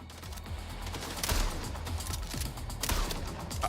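Gunfire from the video game Mindseye, including shotgun blasts, with dense overlapping shots and bursts running steadily throughout, loud and close, a couple of heavier blasts standing out.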